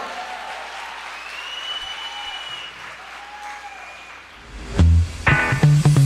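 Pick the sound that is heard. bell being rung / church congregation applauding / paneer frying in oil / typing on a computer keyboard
church congregation applauding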